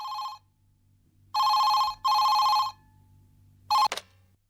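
A landline telephone bell rings in three bursts, the last cut short as the receiver is picked up with a clatter, loud and close in a quiet domestic setting from a Tamil TV serial.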